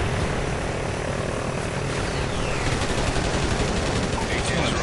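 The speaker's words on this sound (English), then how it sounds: "A-10 strafe, I'm liking it" A-10 strafing run in Call of Duty: Ghosts, a dense, loud, continuous roar of aircraft engine and rapid gunfire filling the whole stretch, with a voice faintly mixed in.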